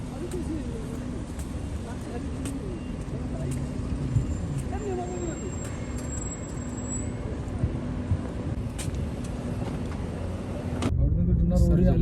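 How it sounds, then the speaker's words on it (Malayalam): A vehicle pulls up in Dubai to collect people for a trip to a mosque: a continuous engine and road rumble at close range that grows louder and heavier near the end. "പോവാനുള്ള വണ്ടി വന്നിട്ടുണ്ട് കേട്ടോ."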